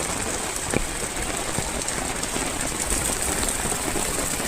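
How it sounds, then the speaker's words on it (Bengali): Heavy rain that has fallen since the previous night onto a flooded road in front of a house, a dense, steady hiss with a faint low rumble underneath, continuous and unbroken throughout. "এই বৃষ্টি শুরু হয়েছে গতকাল রাত থেকে।"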